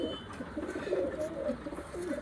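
Pigeons coo in soft, repeated rolling phrases close by, fairly quiet, with no talk over them.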